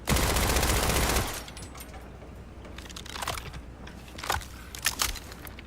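Rapid automatic gunfire from a weapon in the Borderlands 4 video game, a loud dense rattling burst for about a second, followed by quieter scattered shots and clicks.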